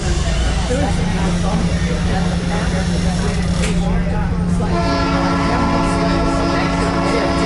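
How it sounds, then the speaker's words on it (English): Loud rumble and clatter of the Gettysburg excursion train near a grade crossing, with a sustained horn blast entering partway through and holding to the end. Steady wheel noise runs underneath. "whenever the train approaches the grade crossing, it is required to blow 2 longs, a short and a long, until it clears the crossing completely"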